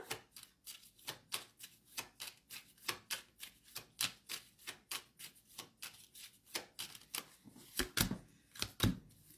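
Cards shuffled during a card reading: a long run of quick, crisp riffling flicks in an uneven rhythm, close and fairly quiet, with no talking over them.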